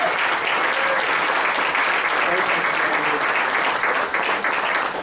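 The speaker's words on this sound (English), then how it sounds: "Let's give him a warm Boone County round of applause." A Boone County fundraiser crowd gives a warm round of applause to welcome a speaker, dense sustained clapping throughout, loud and close, with some cheering mixed in.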